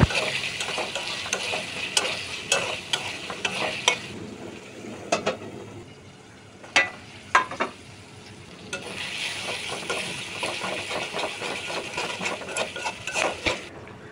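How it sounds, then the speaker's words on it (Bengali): Chopped tomatoes frying in hot oil for a Bangladeshi chicken kosha, with steady sizzling broken by repeated scraping stirs of a spatula against the pan; the hiss drops back for a few seconds mid-clip and then returns loud. No talking. "এরপর এর মধ্যে কেটে রাখা টমেটোগুলো দিয়ে আরও ভালো করে কিছুক্ষণ কষিয়ে নিব"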